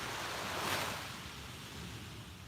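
Ocean waves wash onto a beach in a broad, rushing surge that swells and then eases back. It sounds fairly loud, with some wind mixed in and no talking.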